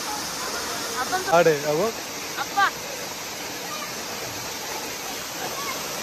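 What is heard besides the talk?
Mohili waterfall at Karjat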